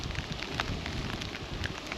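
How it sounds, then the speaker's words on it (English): Steady rain falls on a wild campsite on the Tollesbury Wick Marshes, a dense, close, continuous hiss with small irregular patters and no voices. "If only it would just stop raining."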